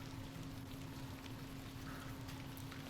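Rain falls steadily in the Fallout New Vegas video game, a soft, constant patter with a low hum beneath it and no voices.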